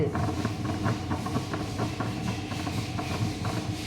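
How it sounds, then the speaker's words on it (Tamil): A kitchen grinder churns butter at home to make ghee, giving a steady, moderately quiet mechanical whir. A soft, rapid clatter and a faint hiss run through it without a break. "இன்றைக்கி தான் முத முதல்ல கிரைண்டரில் ட்ரை பண்ணியிருக்கேன் வெண்ணெய் எடுக்கிறதுக்கு"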